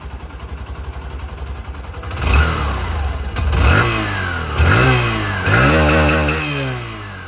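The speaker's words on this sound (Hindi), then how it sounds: "इसकी जो एग्जॉस्ट साउंड है वो भी आप लोग सुन लीजिए।" A 2025 Hero Glamour 125 motorcycle idles, then its exhaust revs up loudly three times, each rise and fall close and strong over a steady engine putter.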